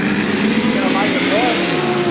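A Holden Monaro six-cylinder drag car makes a run on a no-prep strip, its engine a loud sustained roar with shifting tone, heard under a commentator's voice.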